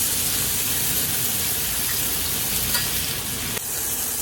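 Food fries in butter in a pan after being seasoned with salt and pepper, a steady close sizzle that runs throughout, with a brief dip near the end as it is turned over.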